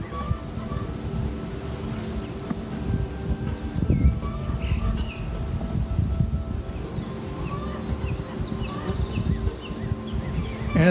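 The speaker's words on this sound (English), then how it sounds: "There's so many bees out flying around, as I'm sure you can see." Honeybees fly around an open double-deep nucleus hive in a beekeeping yard, a steady low buzzing swarm that lasts throughout, with insects and faint birds chirping in the background.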